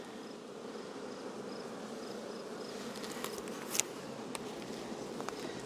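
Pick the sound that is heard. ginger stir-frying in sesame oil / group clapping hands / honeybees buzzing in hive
honeybees buzzing in hive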